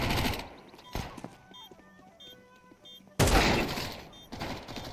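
Gunfire from the video game Counter-Strike 2 opens the clip with bursts, then falls to quieter game sounds before a loud burst of shooting returns and carries on.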